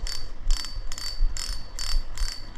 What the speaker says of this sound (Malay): Ni dia punya drag, bunyi drag dia.